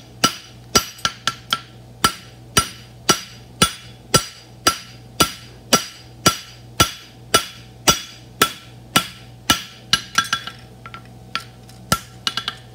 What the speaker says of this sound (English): I want to start from the edge of the anvil in half blows, and then work my way all the way back up to the toe